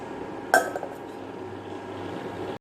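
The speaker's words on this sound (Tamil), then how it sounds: "இனிமேல் இதை நம்ம மூடி வச்சிடணும்." A single metallic clink of a lid set onto a pot of toor dal and rice, close by, followed by quiet kitchen hum and another brief knock at the end.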